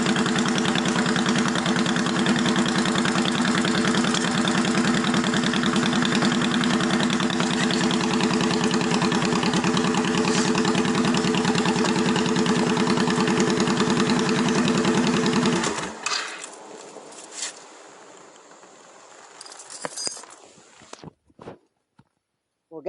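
A carburetor motorcycle engine idles just after starting, a loud, steady near rumble that continues for about fifteen seconds before cutting off, followed by a few faint clicks and knocks.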